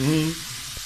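Pea dish sizzling in a pan on a camping stove, a brief burst of frying hiss with a low hum fading after a moment.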